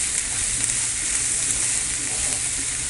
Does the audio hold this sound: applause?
no